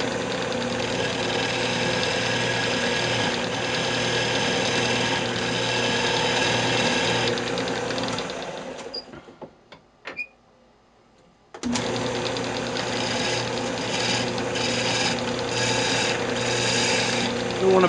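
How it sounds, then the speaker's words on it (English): Wood spinning on a lathe while a detail gouge shapes a magic wand handle, a steady close mechanical whir and rough cutting chatter that drops to near silence for a few seconds, then resumes. "I'm just going to use my detail gouge here."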